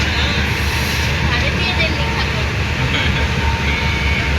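Busy platform ambience at Howrah railway station, a loud dense wash of rail and crowd noise with a steady low rumble, continuous throughout with indistinct voices mixed in.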